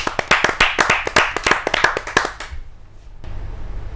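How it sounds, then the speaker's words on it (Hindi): Audience at a Hindi kavi sammelan clapping for poet Devendra Sharma Dev, a quick run of sharp, close claps that fades out and leaves quiet room tone. "आपकी जोरदार तालियां"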